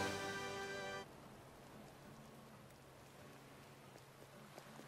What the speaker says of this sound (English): It's cold here, it's raining.